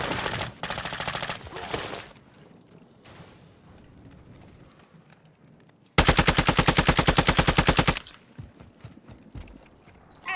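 Automatic gunfire from Warzone 2.0 comes in two loud, rapid bursts. The first lasts about two seconds, and after a quieter stretch a second steady burst runs for another two seconds, followed by scattered fainter shots.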